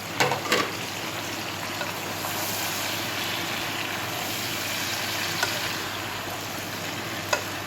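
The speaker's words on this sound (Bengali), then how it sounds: "ঝিঙেটা দেওয়ার পর ভালোভাবে এইভাবে কষিয়ে নেব।" About 1.5 kg of ridge gourd sautés in a pan for a Bengali fish curry, giving a steady, close sizzle and fry hiss with a few scraping stirs near the start and one near the end.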